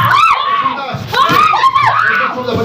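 Members of a family scream and wail inside their home in a Delhi JJ camp as police enter, loud, anguished cries rising and overlapping in close, chaotic bursts.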